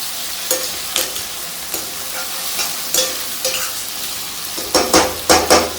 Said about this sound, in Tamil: வதங்கினதுக்கு அப்புறமா நம்ம இஞ்சி பூண்டு பேஸ்ட்டு போடலாம்